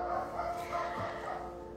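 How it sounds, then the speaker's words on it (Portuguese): A street dog yips and barks from outside during a quiet guided meditation session. The barks are faint and distant over a steady low hum, and a soft voice may sit beneath them. "É o cachorro da rua."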